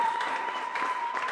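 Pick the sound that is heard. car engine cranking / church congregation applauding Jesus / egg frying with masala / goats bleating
church congregation applauding Jesus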